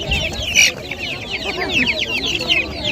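Many chickens and chicks cluck and chatter close by in a busy, overlapping flock at a poultry market in Pitnak, Khorezm, Uzbekistan, with a faint murmur of voices beneath.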